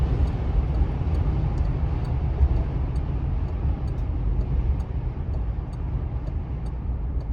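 A 1987 Oldsmobile Cutlass Salon cruising along, its steady low engine and road rumble holding constant throughout, with faint light ticking above the drone and no talk.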